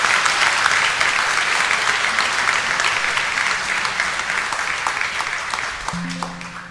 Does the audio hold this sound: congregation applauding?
yes